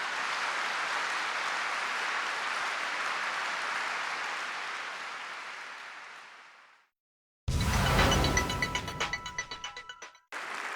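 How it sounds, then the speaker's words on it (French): Long, heartfelt applause from the faithful gathered in St Peter's Basilica for a Wednesday Mass fills the space as a broad, steady roar that fades out. Then comes a brief silence, followed by a fresh loud burst of clapping that tapers in waves. "De longs et émouvants applaudissements de tous les fidèles réunis dans la basilique Saint-Pierre"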